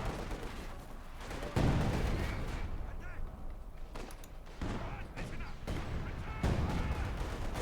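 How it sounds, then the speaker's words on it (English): Artillery shells pound German Jaeger infantry caught in the open in Company of Heroes 2, heavy booming impacts and scattered gunfire recurring through a busy battle mix, with a commentator talking over it. "Jaegers are being bombarded out in the open."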